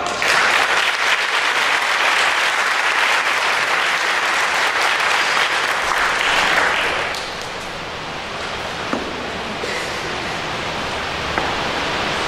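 An audience at a school honors day gives loud sustained applause that dies down about halfway through, leaving a few scattered claps over quieter room sound.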